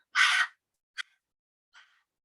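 Panting during a voice breathing exercise: one long forceful breathy exhale followed by two shorter, softer puffs, close and alone in silence.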